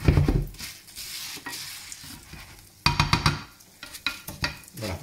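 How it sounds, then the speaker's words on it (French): Pasta stirred in a hot pan gives scraping, clinking stirs over a low sizzle, in irregular bursts close by. "On continue surtout de bien mélanger pour pas que les pâtes, je dirais, brûlent, blanchissent."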